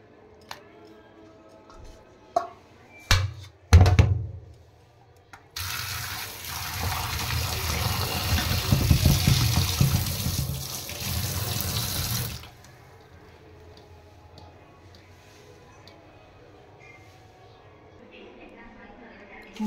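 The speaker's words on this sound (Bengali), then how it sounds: "এবার পরিষ্কার করে ধুয়ে নিই।" Tap water runs hard into a kitchen sink for several seconds while fish are washed clean during a Bengali lunch preparation, a loud steady gush between softer handling clatter, with a voice talking faintly.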